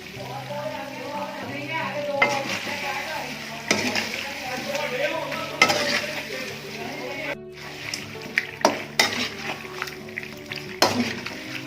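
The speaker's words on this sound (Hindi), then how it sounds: "थोड़ा इसको फ्राई कर लेंगे क्रीम को इसके अंदर, ताकि ये अच्छी तरह मिक्स हो जाए" Green chicken karahi with added cream frying in a pan, a continuous sizzle broken by scraping stir strokes and clinks, with a voice speaking over it.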